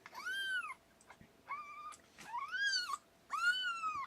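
A mother cat in labour, partway through delivering kittens, lets out a series of four loud, drawn-out, wavering meows separated by short pauses, close and alone against a quiet room.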